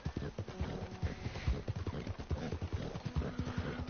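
Walking hoofbeats of a horse in the video game Red Dead Redemption II, an even clip-clop cadence up close with faint background tones and a low voice in places.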